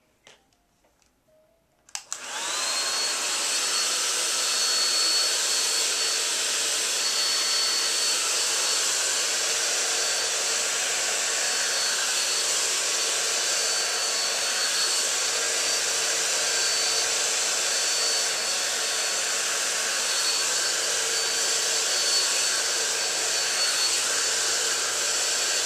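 After a brief quiet start, a hair dryer switches on at high setting and roars loud and close while blow drying hair, a steady unbroken whoosh with a faint whine that carries on to the end.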